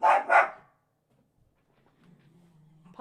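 A puppy gives two quick, loud barks close by, followed by near silence and a faint low hum.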